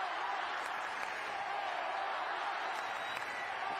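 Basketball crowd cheering for Spain in the closing minute of a FIBA U19 Women's World Cup final against the USA, a continuous distant roar of voices and clapping filling the arena.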